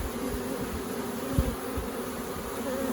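A swarm of honeybees buzzing in a mass in a back yard, a close, continuous drone with a steady pitch and small swells, no voices.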